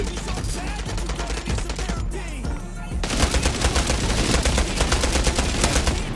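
Rapid automatic gunfire from the World War Heroes video game, loud dense bursts of shots with a brief lull before the firing resumes even heavier.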